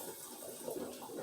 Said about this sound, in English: I've had to add a little bit more water to the hot boiling water to the pressure canner